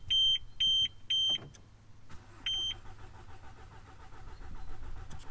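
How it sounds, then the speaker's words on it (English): A few alarm chirps, then a car engine cranking with a rapid rhythmic churn that builds steadily, close and fairly loud. "Cranking."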